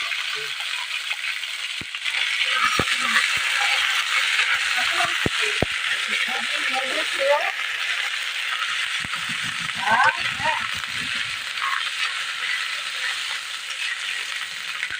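Whole cumin seeds, then ginger and garlic, sizzle in hot white oil for restaurant-style palak paneer, a steady bright hiss with scattered clicks and stirring rattles, and a voice talks quietly over it.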